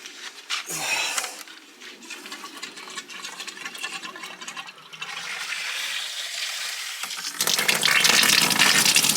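A Bosch Tronic 3000T 2.5-gallon electric water heater tank fills with water in a shop, a steady rushing, gurgling flow that grows louder and brighter near the end, with no talking.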